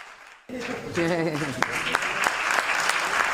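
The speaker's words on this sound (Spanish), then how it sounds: "Un aplauso para Laura García Zapata." A theatre audience at a sports gala applauds an inclusive sportswoman, a dense burst of clapping that starts abruptly after a spoken line and carries on steadily, with a few sharper claps standing out in the mix.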